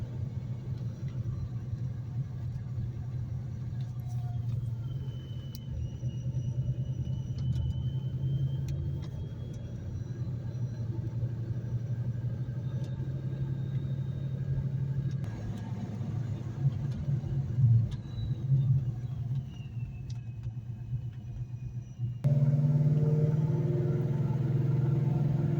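A 2004 Procharged Ford Mustang Mach 1 idling while it warms up, a steady low rumble from a nearby engine that shifts slightly midway and swells louder toward the end.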